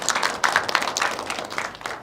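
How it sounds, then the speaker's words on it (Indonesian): A studio audience at a televised regional dialogue forum on flood mitigation claps in a steady, dense round of applause that carries at even loudness throughout, with no voices over it. "Boleh tepuk tangan sekali lagi?"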